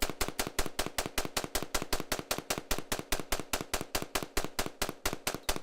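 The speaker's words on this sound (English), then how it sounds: "First up, the standard semi-automatic AR-15 with no add-ons." A standard semi-automatic AR-15 rifle with no add-ons fires a steady string of about thirty sharp shots, roughly five per second, each crack loud and evenly spaced with no talking.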